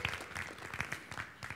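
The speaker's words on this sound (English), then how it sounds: "Come on, give it a cheer." A church congregation at a Sunday service bursts into loud, sustained applause with scattered claps and some cheering voices mixed through the crowd noise.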